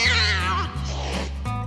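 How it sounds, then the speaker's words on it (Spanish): A cat gives a long, drawn-out caterwauling meow at close range, loud and wavering, then a shorter second cry, with a low steady hum underneath and no speech. "Una mañana, un gato maullaba a un perro."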